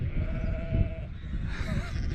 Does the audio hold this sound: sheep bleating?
yes